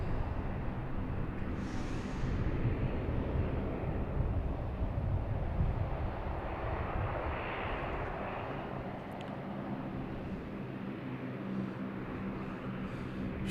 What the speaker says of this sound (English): We have a JetBlue coming in from Cleveland, an A220, flight 540.